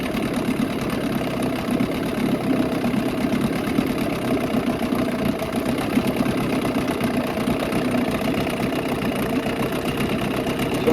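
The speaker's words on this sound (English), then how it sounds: "you want to try and slow your idle down, so where it's just idling" A 6HP Johnson outboard motor idles steadily nearby with a low, even rumble and faint knocking, holding a constant pace throughout with no other sounds.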